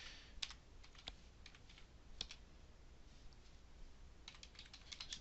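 Typing on a computer keyboard while entering a book title into a library catalog search: sparse, faint keystroke clicks scattered over a steady background hiss, with a few sharper taps standing out.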